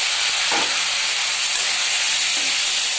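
Boiled pork pieces hit a hot pan of dried-chilli, ginger and garlic paste, giving a loud, steady hiss of sizzling oil that runs unbroken throughout, with a faint stir or clatter near the start.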